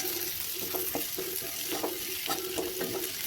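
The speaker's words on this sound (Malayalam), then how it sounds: "പച്ചമുളക്, വെളുത്തുള്ളി എല്ലാം ഇട്ട് നല്ലവണ്ണം ഒന്ന് മൂപ്പിച്ചെടുക്കാം" Green chilli, garlic, curry leaves and onion sauté in hot oil for a crab roast, a continuous crackling sizzle broken by repeated short scraping strokes of a spoon against the pan.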